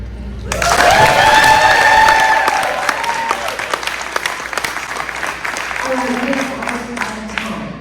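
A school board forum audience breaks into applause mixed with cheers and whoops, swelling loudly at first then thinning into scattered claps, while voices carry over the tail.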